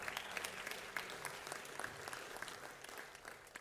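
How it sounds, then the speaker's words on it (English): Audience at an international youth forum on sustainable development and human rights gives a round of applause, a dense, even patter of clapping heard faint and distant across the hall. "A big round of applause for Dr. Mary Shuttleworth for one more time."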